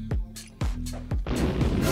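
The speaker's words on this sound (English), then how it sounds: "Not in the cannon launcher!" A cannon launcher in the Poppy Playtime video game fires several times: about three sharp, descending booms in quick succession, ending in a noisy burst.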